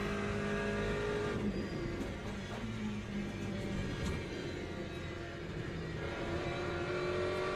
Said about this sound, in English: Hypercars hustling way harder than they need to.